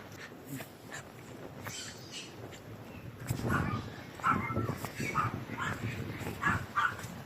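A purebred Labrador dog makes soft whimpers, yips and short woofs, close by, growing livelier in the second half of the clip, with no clear talking.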